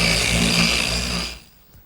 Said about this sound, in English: a quick run over the edge with the sander